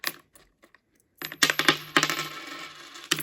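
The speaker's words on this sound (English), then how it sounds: "Can put some coins in there." Coins drop into a laser-cut personalized letter piggy bank: a few light taps, then a burst of close, bright metallic clinks and jangles that settle, with one last clink at the end.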